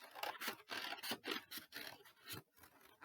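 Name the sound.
scissors cutting along a line in card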